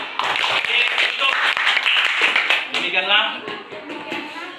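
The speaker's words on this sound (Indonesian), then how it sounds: "Beri tepuk tangannya" Children in a classroom clap for a group that has just presented, a brief burst of quick, close claps mixed with voices talking over it.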